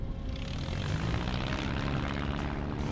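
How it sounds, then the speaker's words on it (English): A small propeller airplane, a Stearman-type biplane, rolls along the runway, its engine giving a steady, droning propeller hum with a faint rise near the end. "I'm steering the airplane down the runway."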